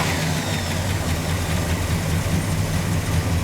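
A 1965 Buick Skylark Gran Sport with dual four-barrel carburetors idles steadily and smoothly, a close, even low rumble with no talking over it.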